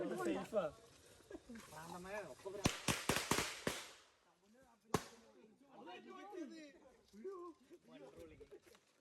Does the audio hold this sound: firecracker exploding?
yes